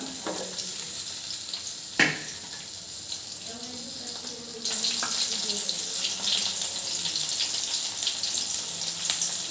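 Tomato pieces drop into a wok and fry after whole spices, dry red chilli and onion, with a sharp clatter, then a louder, steady sizzle that grows and continues close by, with no talking.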